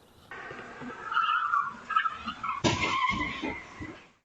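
A stolen car skidding at night before crashing head-on into a police cruiser, heard from a distance as a long tire screech followed by a harsher grinding burst, moderately loud.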